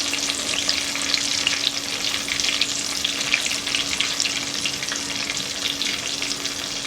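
Spiced potato and pointed gourd curry with salt, turmeric, cumin and Kashmiri chilli powder fries in a pan, giving a loud, continuous, even sizzle with faint stirring beneath a steady background hum.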